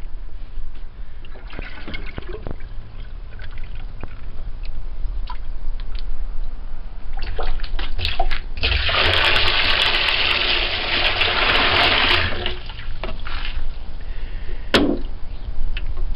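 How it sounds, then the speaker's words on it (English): Rainwater sloshes and splashes as a 4 liter baler scoops from a rain collection container and pours it out, with a louder rushing pour in the middle and scattered drips and knocks around it. "want to see me baling the water?"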